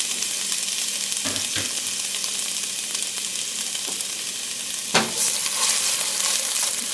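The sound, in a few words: onion sautéing in hot oil in a pot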